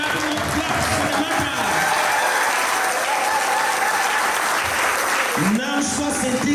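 Steady applause fills a church service held for an Angolan independence anniversary celebration in London, a dense crowd clapping continuously throughout with some voices mixed in near the end.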